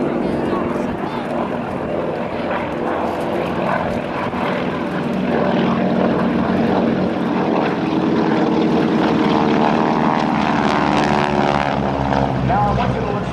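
GEICO Skytypers vintage propeller aircraft with 600-horsepower engines roar past at an airshow, a loud, sustained droning engine sound that builds slightly and holds steady with no talk over it.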